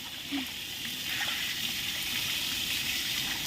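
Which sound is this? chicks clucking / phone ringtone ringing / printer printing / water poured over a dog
water poured over a dog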